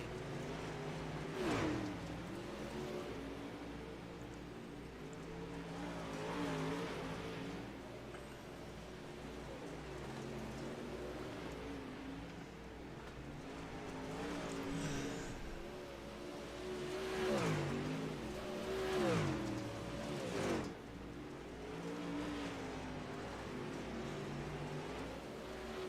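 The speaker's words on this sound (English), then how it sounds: "Michael Steele looks like he's going to be catching the number 1 car of Logan Tackett and put him a lap down here shortly." Dirt track race cars lap a circuit, with engines rising and falling in repeated surges as cars pass and accelerate. The roar is continuous but sounds distant and fairly faint, and no voices are heard.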